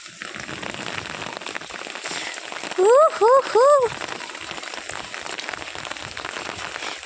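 Rain falling in a village, a steady soft hiss of drops on surfaces throughout, with a brief burst of voice sounds rising over it midway.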